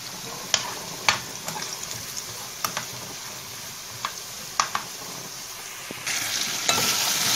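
Onion sizzles steadily as it fries in a pan, with scattered sharp clicks and taps of a utensil against the pan, and the sizzle grows louder near the end.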